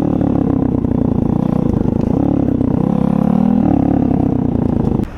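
The engine of a Tao Tao 140cc Chinese dirt bike drones loud and close with a rough, rattling tone, its pitch shifting as it runs, then it drops off abruptly near the end.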